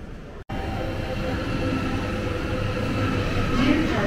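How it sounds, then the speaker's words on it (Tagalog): A train pulls into platform 2 of a station in Israel with a steady, loud rumble and rolling hum that builds slightly toward the end, after a brief cut near the start. "Ito na yung aking train guys."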